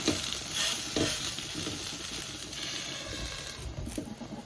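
Small pieces of chicken breast sizzle in hot oil in a pan while being stirred, a steady frying hiss broken by scraping, clattering stirs close by.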